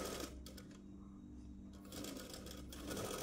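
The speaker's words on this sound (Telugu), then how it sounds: "1/2 ఇంచు మార్జిన్తో స్టిచ్ వేసుకోవాలి." A sewing machine stitches fabric pieces for an umbrella dress in quick mechanical bursts, running, pausing briefly, then running again, close and fairly quiet with no talking.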